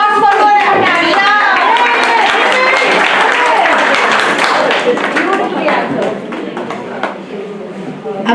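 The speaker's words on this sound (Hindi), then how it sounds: "Big applause for Gora Nadia." An audience at a stage tribute show claps loudly and continuously. The dense, sustained applause is heard close by and slowly thins out toward the end.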